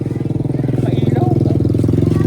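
A motorcycle engine runs close by with a steady, loud, throbbing pulse throughout, with voices faintly present.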